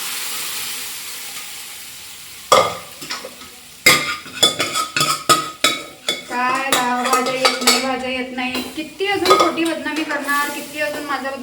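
Dal palak cooking in a pot, with a ladle clanking and scraping sharply against the metal in an irregular burst of knocks, then steady stirring clatter and faint sizzle, close and loud.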